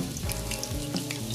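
Garlic sizzles and crackles in a hot pan for homemade habanero hot sauce, a steady close frying hiss with small pops throughout.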